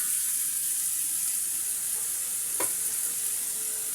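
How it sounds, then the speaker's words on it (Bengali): Coconut paste fries for a prawn coconut curry, giving a steady, bright sizzling hiss throughout with one brief clink of a utensil midway, close and even, no talking. "নারিকেল বাটা দিয়ে আমি এখানে আরেকটু ভেজে নিচ্ছি।"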